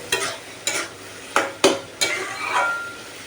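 Taro leaves (kochu shak) being stirred in a cooking pot over medium heat, with a spoon scraping the pot in about six distinct strokes over a faint sizzle. The sounds are close and clear, with no talking.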